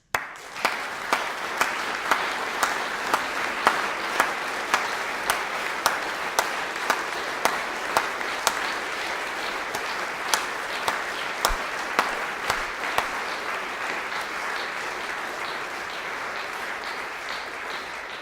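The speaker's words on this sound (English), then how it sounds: "I'm sure he hears you clapping now." Audience clapping at a Wellington book launch for Jack Body, sustained steady applause with distinct sharp individual claps standing out in a regular rhythm throughout.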